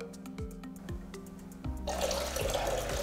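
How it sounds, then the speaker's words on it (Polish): Water rushing through a new drain system, starting with faint drips and dribbles under a low hum, then swelling into a loud, steady gush of flowing water for the last second and a half. "woda nie ma najmniejszego problemu z tym, żeby przepłynąć"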